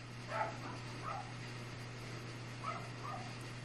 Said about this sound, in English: If you hear my dog